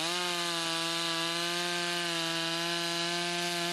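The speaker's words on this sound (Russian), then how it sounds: "Громкий гул бензопилы в тиши Карпатских гор." A chainsaw fells trees in a Carpathian mountain forest near the Gorgany reserve in Ivano-Frankivsk region. The engine gives a loud, steady, buzzing drone that holds an even pitch throughout.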